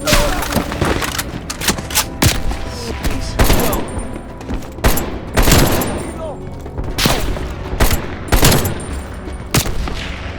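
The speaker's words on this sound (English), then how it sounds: "They're shooting at us!" Heavy gunfire in Call of Duty Black Ops Cold War: loud, close bursts of automatic fire and booming impacts repeat throughout, separated by brief gaps, with shouting voices underneath.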